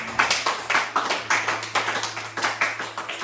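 A church congregation claps during a worship service, striking a regular, even rhythm of sharp, fairly close hand claps over a low sustained tone.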